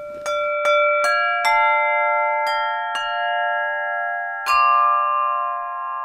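Aluphone notes struck with a medium hard mallet, seven bright, bell-like tones with crisper attacks, each ringing on and blending into a sustained shimmer, played close and alone.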